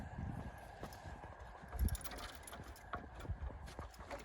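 Horse hooves clip-clop unevenly at a walk, fairly faint and close, with some low rustling and background noise in between.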